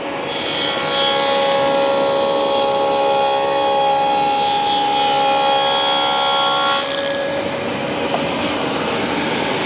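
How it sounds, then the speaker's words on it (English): A power saw cuts a dado through timber while a dust extractor roars alongside, a loud continuous whining blade noise that drops away near the end, leaving the extractor's steady hum. "Dusty on. Saw on. Push it through."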